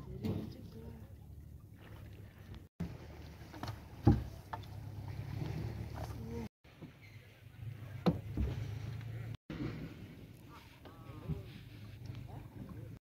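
A rowing boat crossing a river gives a steady low rumble of water and hull with occasional knocks and splashes, close by, while voices talk intermittently.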